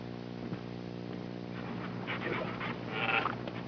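A dog pants in rapid, steady breaths close by, with a faint whimper near the end; no one talks over it.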